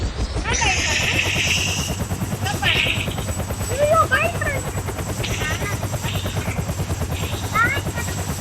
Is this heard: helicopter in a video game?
yes